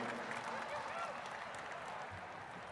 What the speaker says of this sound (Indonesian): Tepuk tangan untuk Bu Mega.